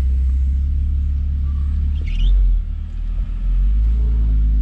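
A supercharged V6 engine on an Audi S5 rumbles at idle or low speed, a deep, steady drone with a brief swell in the middle, loud and close.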